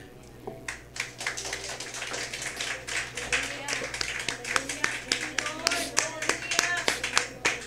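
Members of a church congregation clap for the Lord, starting with sparse, uneven individual claps that build into a quicker, more rhythmic patter, with voices speaking faintly over a low hum in the room.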